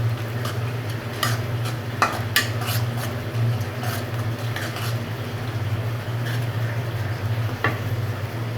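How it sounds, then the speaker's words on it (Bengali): Three dried chillies fry in a pan, a steady low sizzle underneath sharp scattered clinks and scrapes of a spoon stirring against the metal, with no talk. "তিনটে শুকনো মরিচ দিয়ে দিলাম"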